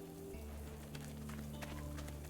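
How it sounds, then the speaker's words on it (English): Rain falls in the Gujian 3 video game as a soft, continuous patter of drops with scattered light ticks, faint and steady over a low, sustained musical drone, with no talk. "this is kind of like the calm before the storm, even though it's raining"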